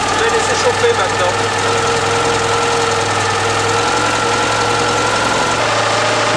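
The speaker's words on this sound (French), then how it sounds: "Voilà, le moteur commence à s'emballer." A car engine runs steadily at a loud, constant idle as it warms up just after ignition timing adjustment on a cold start with the choke fully out, with a dense mechanical rumble throughout and no speech.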